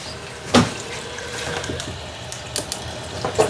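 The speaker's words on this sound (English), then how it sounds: "I need to turn the water up a little bit." Water runs steadily from a tap that cools the condenser of a whiskey still making a peated whiskey, a quiet continuous flow punctuated by a few sharp knocks and clinks.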